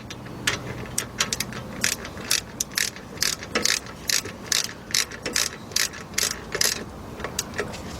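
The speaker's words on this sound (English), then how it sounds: "It might be easier to use a regular ratchet, you know, without the swivel." A ratchet wrench turns a bolt on the rear brakes of a 2005 Chevy Suburban, giving a close, steady series of quick clicking bursts in a regular rhythm, with no one talking.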